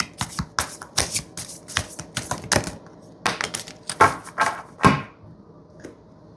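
Tarot cards are shuffled by hand up close, in rapid bursts of crisp riffling slaps and flutters with short pauses between, loud and alone with no talk.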